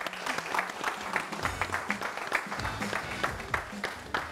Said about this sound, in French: Je vais vous demander, public, de les applaudir.